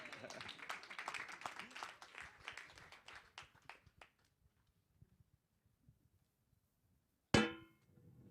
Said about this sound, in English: Wadu, please give him another round of applause.